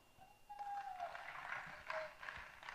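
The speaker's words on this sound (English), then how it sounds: "give a round of applause for yourself as well" On a conference main stage in Miami, an audience gives a round of applause, soft scattered clapping swelling from quiet, with a faint tone and some voice-like sound mixed in.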